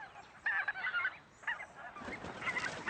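A small flock of about fifteen geese honking at a winter roost as they lift off toward wet meadows, with repeated overlapping calls in bursts, fairly close and clear, rising into a busier chorus of wingbeats and honks.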